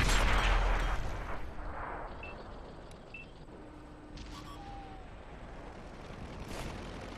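A tank cannon fires in World of Tanks: one loud, close boom at the start that decays into a low rumble, followed by quieter game ambience with faint tones.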